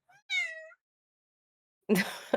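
A pet cat gives a clear, drawn-out meow up close, then a short silence before a rougher, noisier burst of sound at the end.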